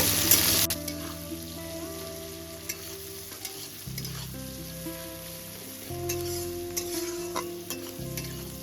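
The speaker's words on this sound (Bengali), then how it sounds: "পেঁয়াজটাকে ব্রাউন করে ভেজে নেব" Chopped onions, three medium ones, frying and being stirred in a pan to brown them, a steady close sizzle with repeated stirring scrapes throughout, no talking.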